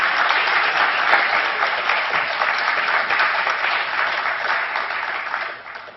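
An audience at a coral lecture bursts into steady, dense applause to welcome two lecturers, holding strong throughout before tapering off at the end.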